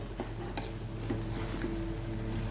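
A spoon stirs sprouted bean stir-fry in a pot after salt and coriander leaves go in, giving a few soft scraping clicks over a steady low sizzle.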